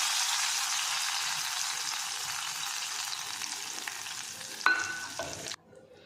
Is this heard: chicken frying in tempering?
yes